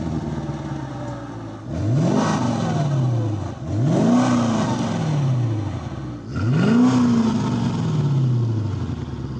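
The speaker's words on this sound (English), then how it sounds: "Talking about the exhaust, it is very, very quiet for a big engine like this." Mercedes C55 AMG W203 V8 exhaust, subdued for a big engine, revving three times in a row, each rise swelling and falling back to a steady idle, fairly close with no talking.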